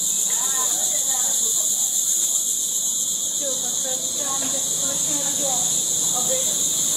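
A constant shrill buzz of cicadas fills a Shanghai insect market, loud and unbroken, above a busy background of people talking.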